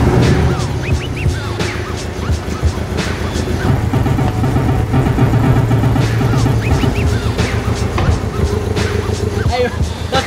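A Porsche engine idles and drives indoors through a shopping mall, a steady loud motor drone throughout with people talking over it.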